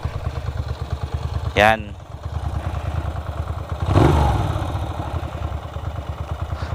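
A big bike with dual mufflers rumbles at a steady, throbbing idle, with a brief high whine just before the two-second mark and a throttle blip near four seconds. Someone speaks briefly over the engine.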